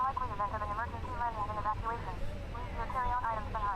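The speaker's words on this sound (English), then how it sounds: "starting engine 1." Airbus A320 engine spooling up in the Fenix flight simulator, a steady low droning rumble with a whine underneath, while someone talks over it throughout.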